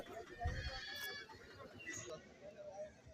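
Goats bleat at a Kerala goat market, short bleats heard faintly behind someone talking, with quiet market background around them.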